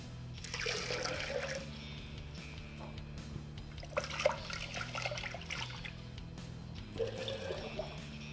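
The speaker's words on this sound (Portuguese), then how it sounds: "eu vou colocar mais um pouco d'água, dar aquela reboladinha para retirar o arroz" Water is added to a container holding leftover stuck rice and swirled to loosen it while making rice vinegar. It sounds like quiet sloshing and trickling in a few separate bursts over a low background hum.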